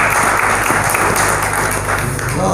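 Dense audience applause fills a seminar hall on careers in law, a loud, steady clapping from a large crowd close by, continuous for the whole stretch.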